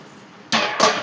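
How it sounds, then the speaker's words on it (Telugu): Water is poured into a cooking pot of curry in two quick splashing bursts, close and fairly loud, after a near-silent start. "నీళ్ళు వేసేసుకోండి."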